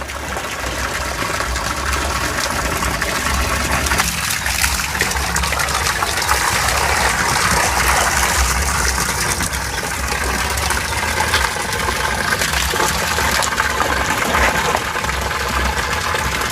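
Continuous heavy gushing of water poured over a catfish pond treated with goat manure, herbs and salt, loud and steady with a low engine-like hum beneath.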